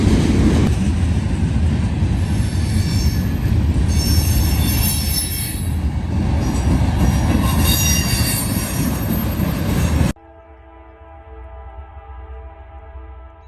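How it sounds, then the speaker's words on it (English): CSX freight train M332 rolling past near the Conrail Tri-Light signals at QI 130, loud continuous wheel squeal and rail roar filling the air, then abruptly dropping to a quieter distant rumble with a lingering whine. "we catch the M332 again, splitting the Conrail Tri-Lights at QI 130 just outside of Russellvania"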